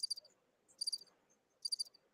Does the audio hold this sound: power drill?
no